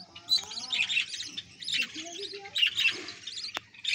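A colony of budgerigars with five newly hatched chicks gives a busy, overlapping chorus of high chirps and tweets, fairly close and continuous, with no talking.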